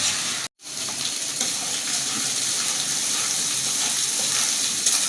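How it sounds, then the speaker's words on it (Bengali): Ginger-garlic paste sizzles steadily in a hot pan, sautéed as the base for a hilsa fish curry with taro, a continuous close frying hiss broken only by one brief silent gap near the start. "এটা আমি ভালো করে আগে কষিয়ে নেব"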